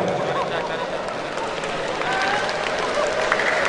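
Audience applause at a university law faculty's national seminar held for its anniversary celebration, a dense, steady clapping that holds at an even level through the whole stretch with light crowd murmur underneath.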